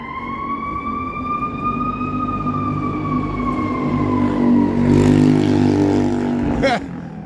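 A loud wailing fire truck siren rises and slowly falls over rumbling city traffic on Wells Street, Chicago, with a short burst of moped noise near the end.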